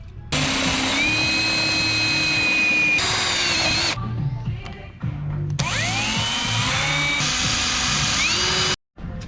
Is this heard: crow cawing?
no